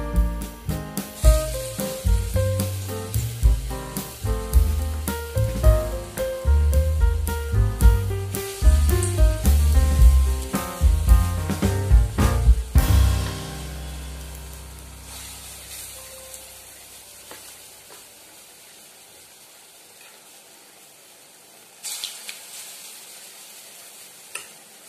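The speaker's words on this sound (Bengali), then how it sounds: "তেলটা আমার গরম হয়ে গেছে। এবার এক এক করে বড়াগুলো আমি ছেড়ে দেবো।" Lentil fritters (bora) drop one by one into hot oil in a wok, giving a loud, dense sizzle with crackles for about thirteen seconds before it fades to a faint hiss, with no talking.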